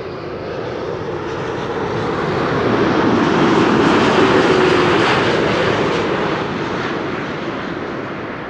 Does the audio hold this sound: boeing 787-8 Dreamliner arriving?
yes